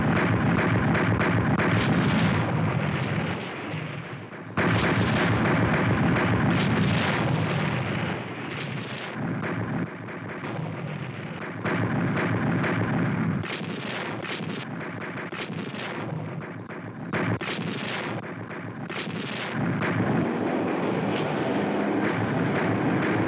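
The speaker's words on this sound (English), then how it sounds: "That's the artillery impact area" Artillery firing at night in an impact area: a continuous heavy rumble of distant booms and rolling blasts, swelling and fading in waves over about twenty seconds with brief lulls between bursts, no voices.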